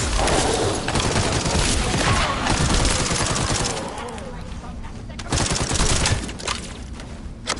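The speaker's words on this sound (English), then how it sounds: "Somebody's shooting me." Sustained automatic gunfire in The First Descendant video game, loud, dense bursts filling most of the clip, easing briefly before resuming, with no talking over it.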